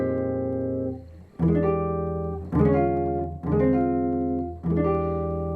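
Solo guitar plays a jazz chord arrangement, with four sustained, rich chords struck one after another, each ringing out before the next, close and clear with no talking.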